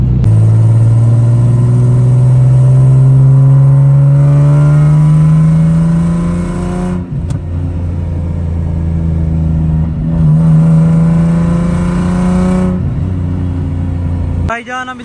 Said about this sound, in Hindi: हमने यहाँ पे जरा गाड़ी को एक हल्का सा पैर दिया, मतलब शिफ्टिंग की गियर की जरा स्पीड से